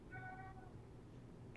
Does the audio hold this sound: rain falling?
no